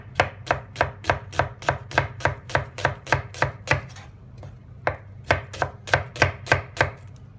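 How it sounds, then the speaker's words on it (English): A knife thinly slicing two or three onions on a board, with crisp, evenly spaced cuts in a quick steady rhythm, close and clear with no talking. There is a short pause midway before the chopping resumes. "Now we're going to thinly slice about 2 to 3 onions"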